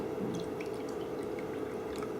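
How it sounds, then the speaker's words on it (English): Water poured into a glass makes a steady, fairly quiet stream of splashing with a few small drips on top, continuous and alone for about two seconds. "let's pour in some water"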